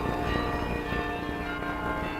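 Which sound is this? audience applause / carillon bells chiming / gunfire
carillon bells chiming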